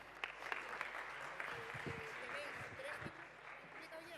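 Quiet audience applause at a startup summit healthcare and biotech finalists session, scattered clapping with voices murmuring underneath.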